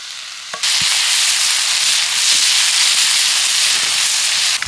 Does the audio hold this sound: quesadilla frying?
yes